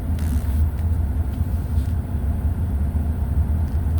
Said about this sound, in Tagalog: Itong dala kong truck pala ngayon.